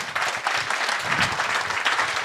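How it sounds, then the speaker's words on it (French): Audience applause at an association gathering, a short burst of steady clapping from a crowd in a hall. "je crois qu'on peut l'applaudir."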